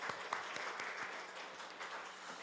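A church congregation claps together, a continuous, even wash of many hands applauding at moderate volume with no voices over it, holding steady for a couple of seconds.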